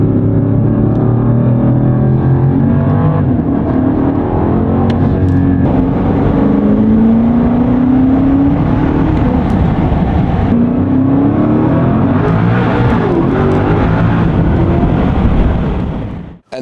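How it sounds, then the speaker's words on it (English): BMW G99 M5 wagon with its S68 engine and valved exhaust, valves open, revving hard: loud, sustained, rising and falling engine roar with repeated throttle blips close by, no talking, cutting off abruptly at the end. "we're gonna open up the valves and give you guys what you're here for, which is that ultimate S68 exhaust solution for the G99 M5"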